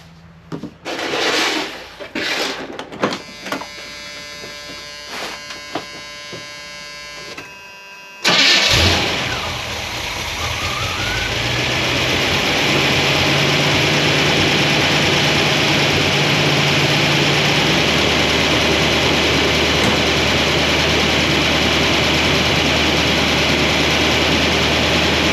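After a few clicks and knocks, a car engine fitted with solid roller lifters cranks, catches loudly and settles into a steady, close idle that holds to the end.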